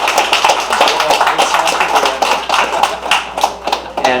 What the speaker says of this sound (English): maybe we can just give our wonderful dignitaries one more round of applause for being with us tonight.